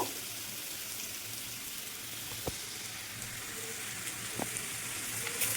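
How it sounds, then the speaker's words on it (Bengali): Potato and green mango fry in hot oil, a steady low sizzle with occasional faint pops and crackles. "আমটাও ঠিক এভাবে ভেজে নিতে হবে ভাজা হতে থাক"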